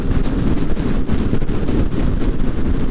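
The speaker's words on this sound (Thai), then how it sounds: "ลมแรงมาก" Strong wind roars and buffets the microphone in a loud, constant rumble on a motorbike ride along back roads near Kaeng Krachan, with no voices over it.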